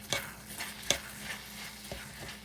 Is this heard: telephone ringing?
no